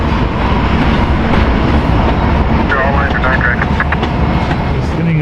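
A freight train with distributed power units at the rear rumbles steadily past close by in Winslow, Arizona, heavy rolling noise with faint wheel clatter and a brief high squeal.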